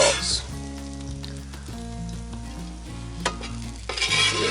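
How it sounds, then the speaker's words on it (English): Caramelized onions sizzle steadily in a pan at an outdoor kitchen, with scraping stirs and utensil clinks over a constant frying hiss. "Oh man, those caramelized onions."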